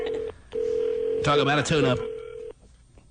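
Cell phone call tones: a steady electronic dial-type tone breaks off, resumes, then continues beneath a voice speaking briefly before ending, close and fairly loud.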